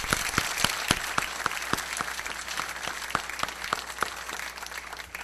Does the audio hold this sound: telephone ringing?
no